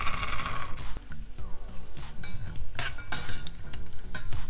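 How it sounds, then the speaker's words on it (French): Sliced almonds fry in very hot oil, about five spoonfuls, giving a steady close sizzle with frequent stirring scrapes and clinks of a utensil against the pan. "Vous voyez, c'est en train de frire, ça prend une couleur."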